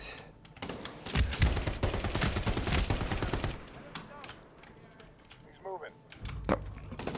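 Bursts of rapid gunfire in the video game Medal of Honor: Warfighter rattle loudly for a few seconds, then pause, with a voice talking and more shots returning at the end.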